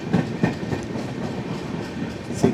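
Gandhidham - Tirunelveli Humsafar Express rolling into Cheruvathur station, its wheels beating out a steady clickety-clack over the rail joints, with a few heavier knocks spaced through a continuous low rumble heard from on board.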